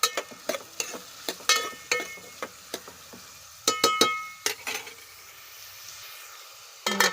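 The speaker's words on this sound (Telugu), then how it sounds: "ఆయిల్ హీట్ అయిన తర్వాత ఉల్లిపాయ పచ్చిమిరపకాయ వేసుకొని వేయించుకోవాలి." Onion and green chilli frying in oil in a kadai, a faint hiss broken by repeated sharp clinks and scrapes of a spatula against the pan, irregular and close.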